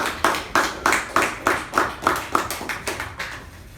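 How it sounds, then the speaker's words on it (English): Slow, evenly spaced hand claps ring out about a dozen times at a club meeting, each sharp and close with a short decay, fading slightly toward the end; no voices. "Please help me welcome the current Division C Director, DTM Udanka, with a huge round of applause"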